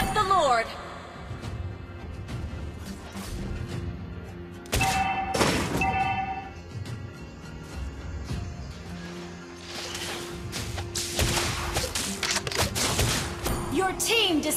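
Rapid gunfire bursts from the hero Lesley in the Mobile Legends video game, mixed with game effects, explosions and announcer voice lines, loud and busy throughout.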